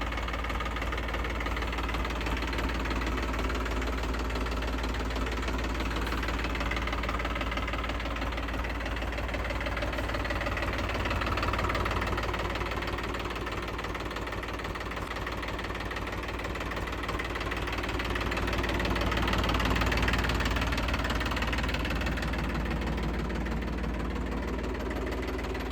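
A Sonalika DI 745 tractor engine idles steadily for the whole stretch, a low, even mechanical throb with a faint knocking texture and slight swells in loudness, heard close and with no one talking.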